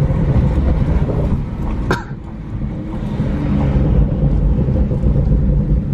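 A BMW 435i with a custom valvetronic axle-back exhaust, valves open, gives off a loud, close, continuous rumbling burble with a sharp crackle partway through.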